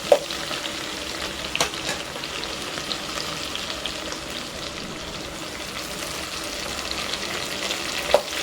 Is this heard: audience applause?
no